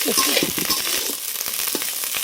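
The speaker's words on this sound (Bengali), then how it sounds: "এদিকে ভাত ভাজি" Rice fries in a pan with loud close sizzling and crackling, broken by repeated scraping stirs of a utensil, with no talking.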